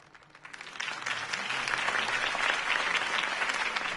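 Applause from a large crowd rises quickly and holds steady at full strength after a political campaign speech in a Batman-themed video game, a dense roar of clapping with no speech over it.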